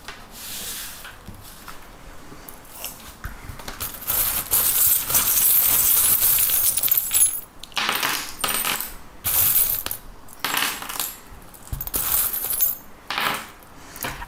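Small metal charms being cast for a divination reading, a loud, close jangle and clink of many little pieces tumbling and settling, rattling in several bursts with brief pauses between.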